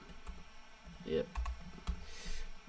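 Soft keyboard clicks and taps at an uneven pace, fairly quiet, with faint background noise.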